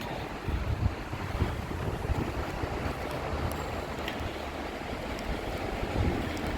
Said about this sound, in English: I think it's starting blowing, the wind blowing around.